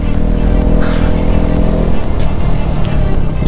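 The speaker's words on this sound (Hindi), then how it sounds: "बाइक पूरी एकदम जोर लगाना पड़ रहा बाइक पे" A motorcycle engine labors loudly uphill toward the high-altitude Umling La pass in strong wind, a close, steady, strained drone that drops slightly in intensity partway through.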